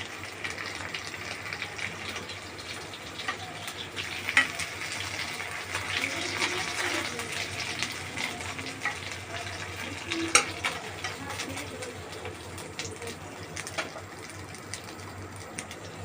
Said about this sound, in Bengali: আমার ভাই এখন পাউরুটি ভাজবে।